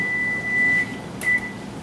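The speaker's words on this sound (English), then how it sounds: "That is the timer." A kitchen timer goes off while a cheesecake rests, giving a few steady, high electronic beeps with short gaps between them, close and clear over quiet room tone.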